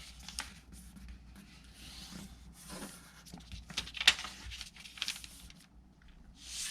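Origami paper being folded and creased by hand, with soft rustling, rubbing and scraping throughout and one sharper crinkle midway, close up, with no talk.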